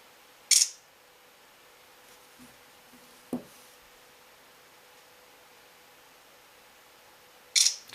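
Shutter clicks from the camera of an Xtreamer JoyZ smartphone, a 12-megapixel autofocus camera with LED flash and image stabilization: two short, crisp clicks about seven seconds apart, with near silence between them.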